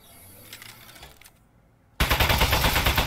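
After two seconds of faint clicks and near silence, an Aperture Science turret in the video game Aperture Desk Job suddenly bursts into loud, rapid, continuous machine-gun fire.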